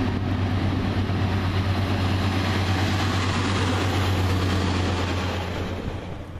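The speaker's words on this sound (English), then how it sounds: "slightly delayed 1244, Northern Rail service from Darlington to Saltburn" A Northern Rail diesel unit, the Darlington to Saltburn service, runs through Eaglescliffe station with a loud, continuous low engine drone and rumble. It fades slightly toward the end.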